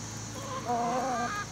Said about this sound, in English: Come here, chickens. You want some flaxseed?